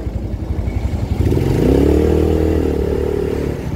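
A Yamaha Nouvo S motorcycle with a suspected faulty fuel tank float, its engine ticking over roughly, then revving up to a loud, steady drone with a rising pitch, close by.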